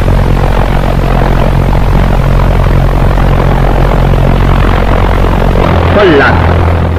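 A Fieseler Fi 103 V1 rocket's pulse-jet engine runs at part load, a loud, steady droning buzz with a low throbbing hum, while a narrator talks over it.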